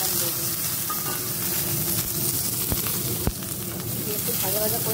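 Dried red chilies hit hot cooking oil in a pan and set off a steady, close sizzle, with a couple of sharp pops and a faint voice in the background.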